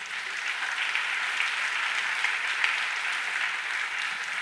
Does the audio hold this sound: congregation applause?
yes